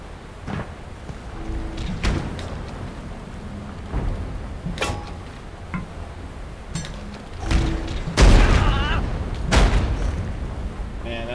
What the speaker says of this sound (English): He's just spamming grenades.